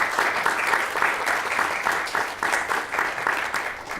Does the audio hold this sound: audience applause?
yes